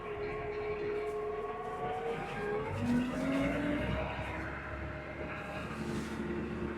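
New Holland T6050 tractor pulling a Berthoud sprayer on asphalt, a steady, loud engine drone with tonal whine that shifts in pitch as it gathers speed, running continuously without talk.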